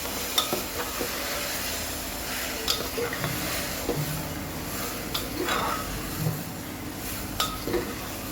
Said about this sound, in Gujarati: સરસ મિક્સ કરી લઈએ.